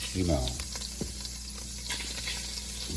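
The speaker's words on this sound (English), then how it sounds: "At this point, we are going to add our shrimp." Shrimp laid one at a time into a hot pan for jambalaya, a constant loud sizzle with a few soft placing clicks, a short voiced sound at the start.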